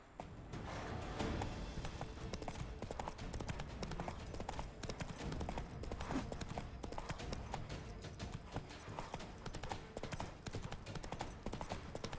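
Horse hooves clip-clop steadily while riding in The Witcher 3: Blood and Wine, a quiet, even trotting rhythm heard alone for the whole stretch.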